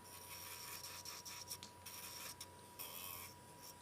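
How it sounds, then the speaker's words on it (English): A fine sanding band on an electric nail file lightly roughens a nail cuticle, giving a soft, steady rasping hum with brief dips as it moves, close and quiet with no talking. "roughen the cuticle slightly with the fine sanding band"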